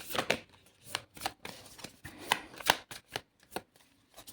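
Tarot cards shuffled by hand, a series of quick riffling flutters and soft slaps repeating irregularly, fairly close and alone.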